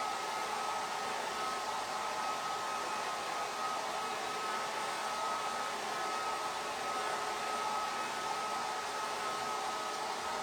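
A hair dryer blows steadily while drying a holiday craft project, giving a constant, even whoosh with a faint whine and no pauses.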